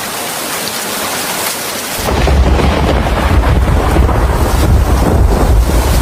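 Cartoon rain pours down with thunder, starting softer and then swelling abruptly into a loud, dense downpour with a deep rumble underneath that carries on steadily.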